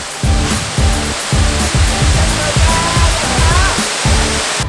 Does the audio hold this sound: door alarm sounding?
no